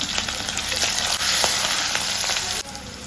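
Chopped ginger and crushed garlic hit hot oil and sizzle loudly and steadily, with crackling and spattering up close and brief stirring scrapes throughout.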